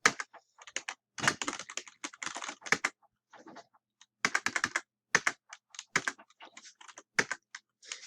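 Rapid keystrokes on a computer keyboard entering a password, bursts of sharp clicks with brief pauses between runs, close and clear with no talk.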